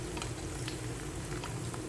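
Cooking oil sizzles in a frying pan for a fried-rice breakfast, a close, steady crackling hiss with light spattering pops, quiet and with no voices.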